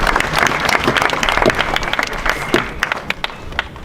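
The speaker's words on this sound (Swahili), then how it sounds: "Makofi kwa mama" A school audience of students applauds, a burst of brisk clapping from a crowd that thins out toward the end.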